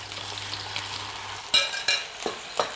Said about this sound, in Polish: Teraz muszę smażyć ryby. Ryby, dorada filety.